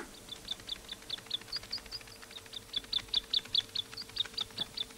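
A bluebird in an anime film chirps in a quick, regular series of high tweets, fairly close and clear above a quiet low hum, with no talking.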